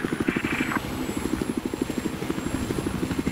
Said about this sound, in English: Wait, which helicopter is this?